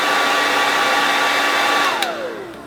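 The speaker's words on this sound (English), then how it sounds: "I just had a little hair dryer and I'm just gonna heat it up for about 30 seconds or so." A small hair dryer blows steadily at close range, heating the adhesive of a motorcycle helmet chin mount, a constant airy whir that winds down in pitch as it switches off near the end.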